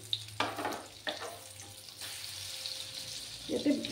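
An egg and onion snack fries in a pan, giving a soft, quiet sizzle broken by a few brief scraping and handling noises close by.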